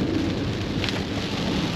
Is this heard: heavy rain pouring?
yes